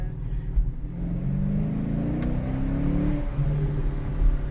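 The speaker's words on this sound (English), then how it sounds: "we changed the muffler system from the stock mufflers to the California American Thunder, from the catback system" A 2015 Shaker 5.7 engine with an American Thunder cat-back exhaust rumbles low and steady, rising briefly as it revs, with a deep throaty exhaust tone close by.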